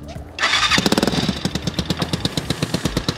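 A freshly washed motorcycle cranks and fires up close by, the starter whirring briefly before the engine catches into a loud, rapid, rhythmic idle putter that continues steadily.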